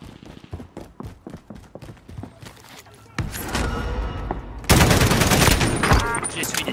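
Gunfire in Call of Duty Warzone on Rebirth Island from an M4A1 in .458 SOCOM: a run of sharp, evenly spaced shots gives way to dense, loud sustained firing and explosive bursts, close and intense.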